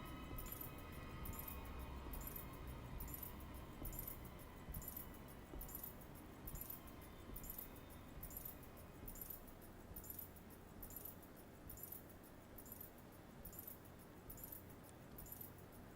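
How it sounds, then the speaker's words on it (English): In White Day, keys jangle steadily outside a door in a faint, repetitive metallic shimmer that runs on without letting up. "It's like he's standing outside the door jiggling his keys."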